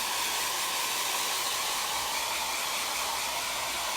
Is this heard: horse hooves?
no